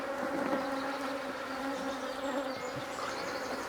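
Honey bee colony at a hive being fed after a shook swarm, a close, continuous droning hum with occasional individual bees buzzing past, no voices.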